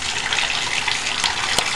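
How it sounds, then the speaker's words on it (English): Running water rinses milk and ice out of a person's hair, a steady close splashing wash that keeps going the whole time with a few brief louder splatters near the end and no talking. "what I'm gonna do now is literally rinse this milk ice out"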